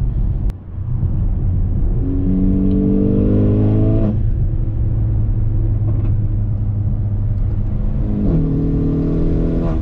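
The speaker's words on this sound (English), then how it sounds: "I've never really been in a car that pulls like this on a launch, honestly." Mercedes GLA45 AMG running a Eurocharged TCU tune launches hard, its engine and turbo note climbing steadily through two gear changes in a loud, continuous, close-up cabin roar with no talking.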